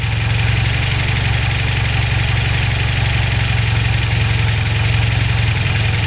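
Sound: car engine with SU carburettors idling

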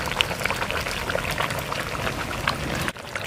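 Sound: pouring raw coconut oil into fish curry

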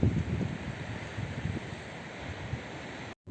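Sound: wind blowing on Odesa seashore

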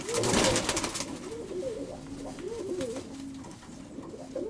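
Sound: pigeon cooing

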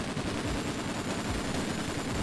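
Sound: automatic gunfire in a video game

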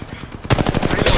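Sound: gunfire in video game Apex Legends Mobile

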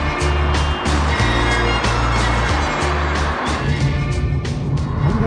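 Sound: heavy car traffic at a highway intersection in China

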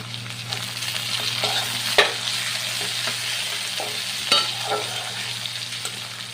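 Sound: stir-frying chopped tomato with onion, garlic and ginger paste

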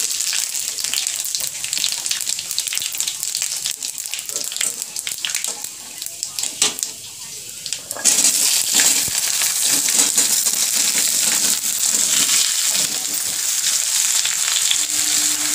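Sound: panch phoron spices and green chili sizzling in hot oil

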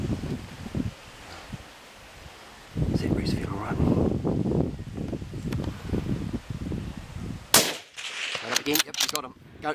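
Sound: rifle gunshot while hunting deer

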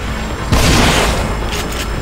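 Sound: gunfire from the video game The Evil Within

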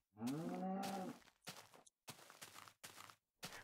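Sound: cow mooing in Minecraft video game

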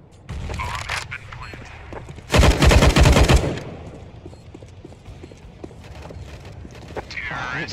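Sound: gunshots in the video game CS:GO

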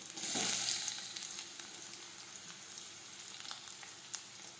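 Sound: chopped tomatoes and ginger sautéing for dal

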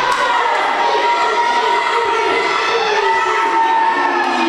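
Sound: wrestling crowd cheering for Harker

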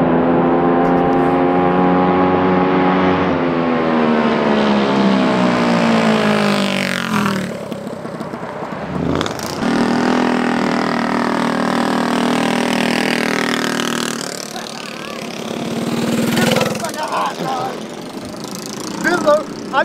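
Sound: 30hp billet head 236cc mini bike engine running

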